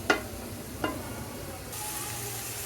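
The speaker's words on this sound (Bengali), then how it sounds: "অল্প তেল দিয়ে দিব পেঁয়াজগুলো খুব দ্রুত বাজা হবে" Chopped onions fry in a little oil with salt, giving a soft steady sizzle with two sharp utensil taps against the pan near the start, and the hiss swells louder toward the end.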